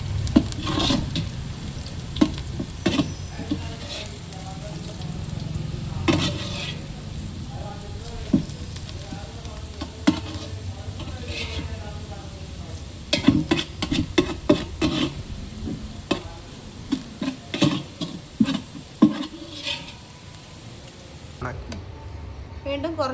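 Fried rice ingredients are fried in ghee with a continuous close sizzle, while a utensil scrapes and clinks against the pan in irregular stirring strokes throughout.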